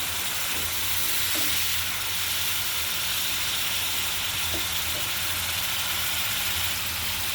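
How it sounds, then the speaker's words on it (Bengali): Spice paste sautés in oil in a pan for a hilsa fish curry, a steady hissing sizzle with a low rumbling hum beneath and a couple of faint clinks, with no talking. "মশলাটা কষিয়ে নেব সুন্দর করে।"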